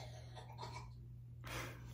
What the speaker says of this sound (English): We've been having the coughs around this house.